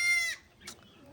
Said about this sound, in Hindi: बकरी बहुत चिल्ला रही है